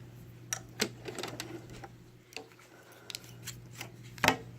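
Sewing machine stitching back a few stitches over fabric, short mechanical clicks and needle bursts in an irregular rhythm, close and fairly quiet over a low steady hum.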